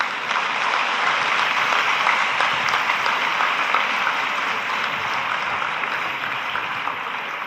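Big, sustained applause from a convocation audience, dense crackling clapping that stays steady throughout and fills the hall, with no talk over it.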